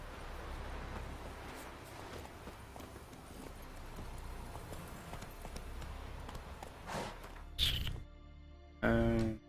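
Rapid horse hoofbeats in The Witcher 3: Wild Hunt clip-clop steadily at moderate volume, ending with a couple of sharp louder thumps near the end.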